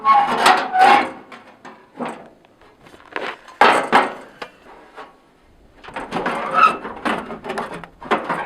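Metal panels on a vintage Cockshutt 30 tractor are handled while its hood is taken off, producing close, loud clunks, rattles and bumps in irregular bursts with short pauses between them.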